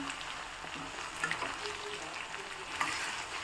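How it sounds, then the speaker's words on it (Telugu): Bitter gourd fries in a pan with a soft, steady sizzle, and light scrapes of stirring come and go over it; no one speaks. "అట్లా వేసుకుని ఫ్రై చేసుకో ఇదిగోండి ఇట్లా అప్పుడప్పుడు తిప్పుకుంటా ఉండాలన్నమాట"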